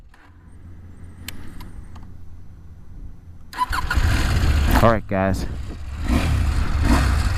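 A 2019 KTM 790 Adventure motorcycle cranks and fires up after a quiet lead-in, then its engine revs sharply in rising and falling blips before settling into a loud, rumbling idle, with someone speaking briefly at the start.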